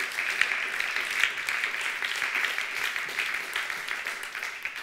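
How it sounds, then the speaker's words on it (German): An event audience applauds for the event manager, a moderate, fairly distant patter of many hands clapping steadily without pause. "Einen ganz tollen Applaus."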